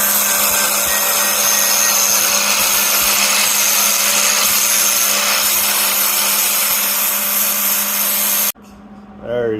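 Plug welding on the kick panel of a 1951 GMC 100 truck gives a loud, steady electric buzz and crackle that runs for about eight seconds, then stops abruptly, leaving quieter background noise and a brief voice.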